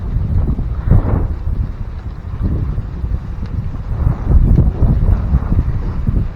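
Strong cold wind buffets the microphone outdoors beside a bitter gourd garden, rumbling in uneven low gusts that swell and fade without a break, with no voices.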